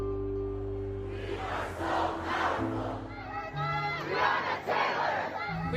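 Crowd cheering and shouting at a WNBA basketball game, a loud sustained roar that swells in waves, with a steady low hum running beneath it.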